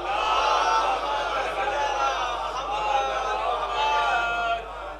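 A congregation at a majlis gathering reciting salawat together, many voices chanting in unison in a loud, sustained, reverberant chorus that drops off near the end.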